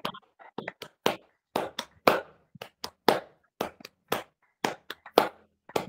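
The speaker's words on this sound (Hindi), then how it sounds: "तो ताल में ताली बजाना है" Hands clapping in rhythm during a yoga session, sharp individual claps close by in a steady repeating pattern, some in quick doubles, with silence between them.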